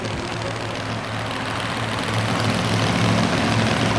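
A 1990 Ford Ranger two-wheel-drive pulling truck idles at a Pennsylvania truck-pulling competition, a loud, rough, low engine rumble that holds steady and swells slightly toward the end, with no voices.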